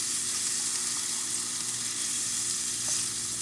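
Burgers fry in a pan with a steady, dense hiss and crackle, unbroken and moderately loud throughout, with no voices.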